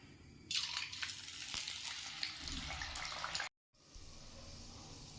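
Potato kachuri dropped into hot oil, which bursts into a loud, close sizzling hiss, then briefly cuts out before a steadier, quieter bubbling fry resumes.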